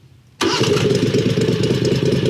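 A 670cc engine cranks and catches after a short quiet moment, then settles into a loud, steady running rumble close by with no talk over it.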